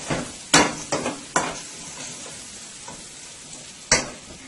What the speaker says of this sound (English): Been frying here now with my turmeric, my garlic, and my brown jeera or cumin.